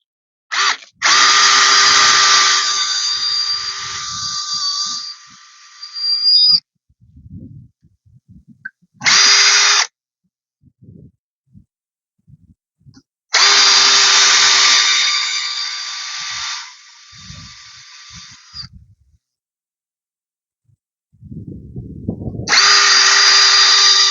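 Repeated bursts of a power drill boring holes into the sides and center of a wooden house post, each lasting several seconds, separated by quiet gaps with light knocks and shuffling.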